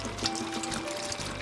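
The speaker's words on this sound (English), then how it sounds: "we're going to go ahead and add the water" Water poured into a pot, a short continuous splashing trickle heard up close with no talking over it.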